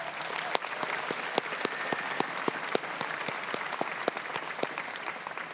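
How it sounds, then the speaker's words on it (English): Audience at an honors convocation ceremony applauds the national anthem singer: a steady, dense round of clapping from a sizable crowd, with sharper individual claps popping out throughout. "Let's give him another round of applause"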